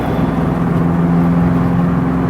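A 1957 Chevy Gasser two-door wagon cruising on a freeway, its engine giving a steady low drone with a hum of road and wind noise, heard from inside the car with no talking.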